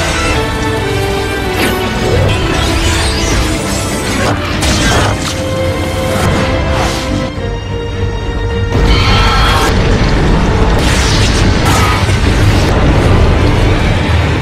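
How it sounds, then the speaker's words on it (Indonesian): Gunpowder stores blowing up together with a monster queen in a film battle scene, with loud sustained booming and crashing blasts mixed with dramatic soundtrack and some voice throughout. "yang membuat mesiunya meledak bersamaan dengan ratu monster Taute tersebut"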